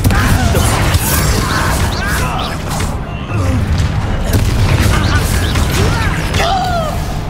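Confringo blast spells explode in the video game Hogwarts Legacy as loud, booming bursts amid battle effects, with character voices and shouted spell calls over the combat.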